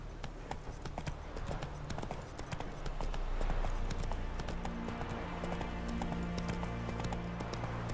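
A horse's hooves clip-clop in a steady, rapid rhythm in the video game The Witcher 3 (PC), loud and close over low game music and ambience, with a brief whinny and no talk.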